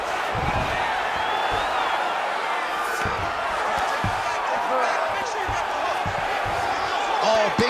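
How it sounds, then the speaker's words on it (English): A packed arena crowd in the UFC 5 video game roars steadily through a simulated lightweight championship bout between Islam Makhachev and Arman Tsarukyan, with a dense, sustained wash of cheering and scattered thumps swelling near the end. "big pop from the crowd as they get back to their feet after a pretty scintillating grappling battle there on the ground"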